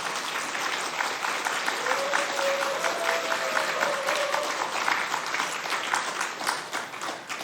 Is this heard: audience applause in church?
yes